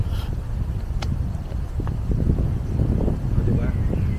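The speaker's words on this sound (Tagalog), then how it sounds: "ang lakas ng hangin" Steady gusty wind rumbles against the microphone on Mount Hapunang Banoy, with low buffeting throughout and a few faint higher noises on top.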